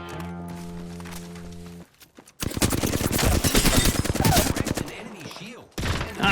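Rapid gunfire bursts ring out during a video game shootout, dense and loud volleys after a steady tonal hum, with a short pause and a final burst.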